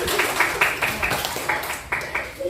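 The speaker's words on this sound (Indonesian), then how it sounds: "Ya, tepuk tangan saudara." Elementary school pupils clap in a classroom during a lesson, a loud, close patter of many hands with uneven rhythm, with a voice audible under the clapping.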